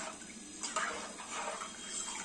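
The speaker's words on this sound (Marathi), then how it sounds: "सो इथे आवश्यकतेनुसार आपण पाणी यामध्ये घातलेलं आहे" Water is poured into a pot of mixed dal khichdi, a soft, faint splashing and gurgling stream lasting a couple of seconds with no talk.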